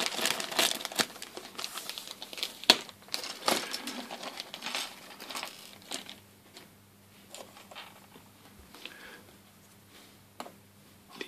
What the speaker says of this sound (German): Dann machen wir die nächste Tüte auf mit den Figuren.